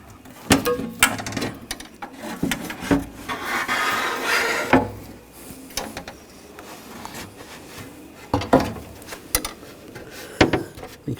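Window glass on a 2000-2006 BMW X5 slides into its door window channel during a regulator replacement, giving a series of close wooden-sounding rubs, scrapes and knocks with a longer grinding slide midway.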